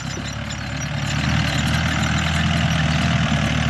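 A new Yanmar YM357A tractor runs in first gear while tilling a paddy field, its loud, close diesel engine droning steadily with a low rhythmic knock that builds slightly in the first second.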